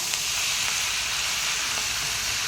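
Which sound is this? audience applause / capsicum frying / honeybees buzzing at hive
capsicum frying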